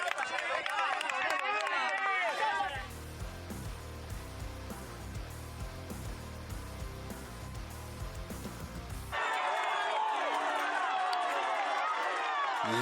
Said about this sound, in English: Listen to that crowd, that roar.